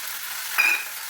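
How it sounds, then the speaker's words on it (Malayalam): Beans frying in a pan for a Kerala-style stir-fry, giving a steady close sizzle with a brief stirring scrape in the middle. "ബീൻസ് പയർ മെഴുക്ക് പുരട്ടിയെടുക്കുവാണ്."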